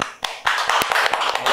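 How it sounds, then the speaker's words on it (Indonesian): A small podcast audience in Indonesia claps: a short, dense burst of hand clapping, close and fairly loud, with a brief gap before the applause swells. "Tepuk tangan dulu dong."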